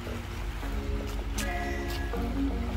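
River water in Hamburg, Germany babbles and swishes steadily in the background, with a few faint tonal sounds over it and no voices.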